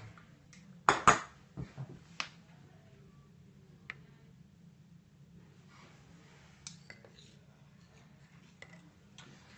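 Spoons skimming foam off coffee cupping bowls: a few sharp clinks of metal on ceramic early on, then sparse light taps over a quiet background.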